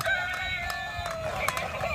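A dancing toy chicken gives a steady electronic crow, a bright buzzy rooster-like call that runs unbroken and close for about two seconds.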